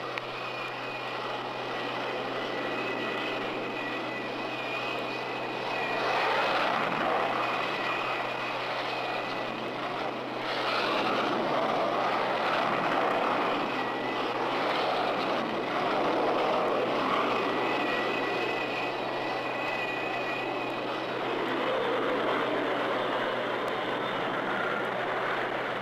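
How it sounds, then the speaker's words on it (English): Aircraft launching from an aircraft carrier deck into a 30-knot wind, a steady, loud roar of aircraft engines that swells and holds for the full length, with no voices over it. "Launch aircraft."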